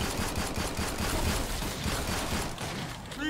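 Rapid automatic gunfire from the Killing Floor 2 video game rattles in dense, continuous bursts at close range, with a brief mechanical click near the end.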